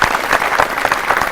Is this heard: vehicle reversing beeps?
no